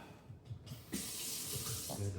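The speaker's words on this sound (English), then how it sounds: "Gotta turn on the valve and you can hear it filling up." Water rushes into a reverse osmosis tank once its valve is opened. A steady, close hiss of flow starts abruptly and holds, with faint speech and some handling noise underneath.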